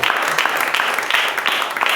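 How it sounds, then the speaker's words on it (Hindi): A church congregation applauding together, a dense steady wash of many hands clapping at close range, with murmured voices mixed in underneath. "आप ताली बजाओ।"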